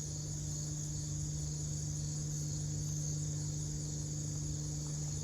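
Honey bees swarm around an open hive, making a steady, dense drone that fills the air and holds unbroken throughout.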